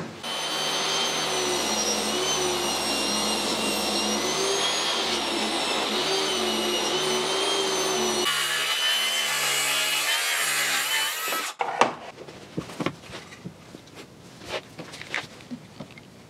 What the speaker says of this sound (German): Und dafür säge ich jetzt nochmal was ab.